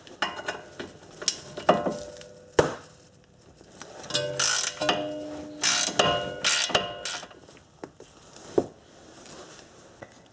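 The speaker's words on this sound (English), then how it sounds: "Let me grab a ratchet." A ratchet wrench clicks in irregular bursts while working on a car's lower ball joint with basic hand tools, close and fairly clear, with metallic clatter and knocks between the clicking runs.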